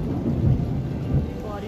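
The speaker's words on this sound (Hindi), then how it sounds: "बारिश आ गई पूरी जोरा शोरा" Thunderstorm with heavy rain, a dense steady roar of rainfall with deep rumbling thunder swelling underneath, loud and continuous throughout.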